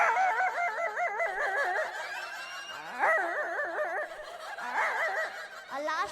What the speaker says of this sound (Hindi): कुतवा जब आपस में लड़ने लगता है, इस गांव का कुत्ता दूसरे गांव का कुत्ता तो आपस में